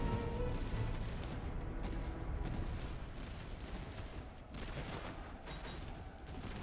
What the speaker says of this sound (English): You can shoot the Fusiliers.